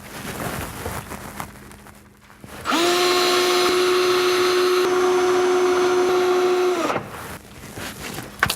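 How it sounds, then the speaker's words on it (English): A power drill bores four holes into a kitchen cabinet side to mount a corner organiser, one loud steady whine lasting about four seconds with a slight rise at the start, close by, with quieter workshop noise before and after. "then drill for the 4 holes which are positioned there"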